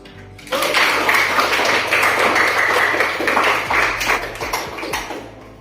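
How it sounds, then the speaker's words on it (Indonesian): A classroom of students applauding together: a dense burst of clapping that starts abruptly, holds steady for several seconds, then thins out toward the end. "Aplaus untuk kita."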